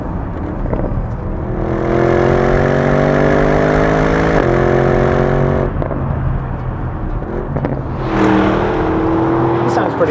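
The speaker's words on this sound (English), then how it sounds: "with the V8, it sounds rather good. You get a sports exhaust" A 2021 Porsche Cayenne GTS V8 with sports exhaust revs in rising sweeps, a short break, then climbs again, loud and close from the cabin, with some talk over the engine.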